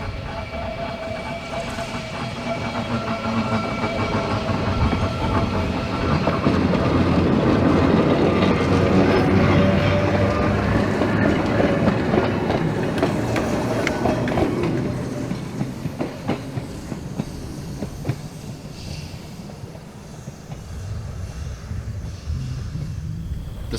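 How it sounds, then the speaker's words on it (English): A trolley rolls past semaphore signals at a railway museum in Illinois, a loud, steady rumble of wheels on rail that swells mid-pass and then eases, with faint clickety-clack throughout and no voices. "First train to pass them was the trolley."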